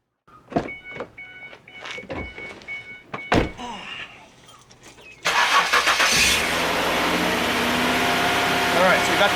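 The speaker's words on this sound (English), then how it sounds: "so we got the car started" A car being started at home during a power steering flush: a few clunks and thuds, then the engine cranks and catches into a steady, loud running hum that continues to the end, with brief voices early on.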